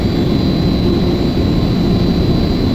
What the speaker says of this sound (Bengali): গ্যাস প্রেশার সুইচ অন হয়েছে এবং ব্লোয়ার মোটরটিও রানিং আছে